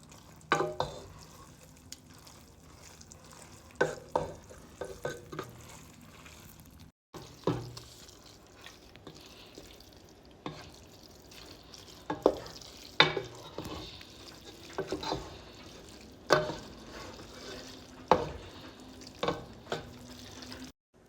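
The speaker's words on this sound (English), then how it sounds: "Okay, now let's mix it together." Spaghetti and sauce mixed together in a pot, heard as repeated soft scraping and wet stirring knocks spread across a fairly quiet background with a brief gap partway through.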